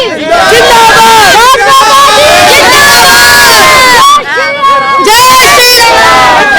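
Political rally crowd in Delhi cheering and chanting, a dense, loud mass of shouting voices with rising yells and whistles, nearly continuous with one brief lull.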